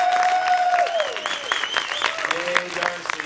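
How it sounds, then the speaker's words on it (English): Audience at a convention panel claps in a steady wash of applause filling the room, with scattered cheers and voices mixed in. "give her a round of applause"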